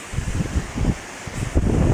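Strong typhoon wind (Typhoon Uwan) building in intensity, a steady roaring rush with gusty low-end buffeting against the microphone, loud and continuous throughout.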